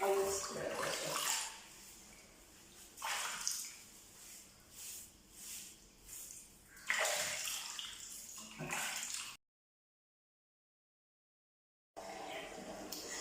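A synthetic wig cap is scrubbed in water, giving repeated wet swishing and sloshing bursts in an uneven rhythm, close and fairly loud, broken by a brief silent gap before the scrubbing resumes.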